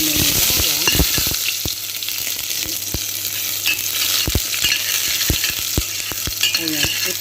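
Garlic fries in hot oil, giving off a steady close sizzle with scattered spatters and the sharp scrapes and taps of stirring throughout.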